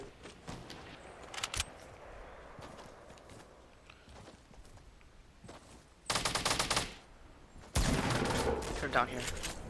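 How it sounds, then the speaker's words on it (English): Gunfire in an online shooter: scattered distant shots crackle at first, then two loud, close bursts of rapid automatic fire ring out in quick succession. "Isn't it so cool how you can like detect like which way the shots are coming from?"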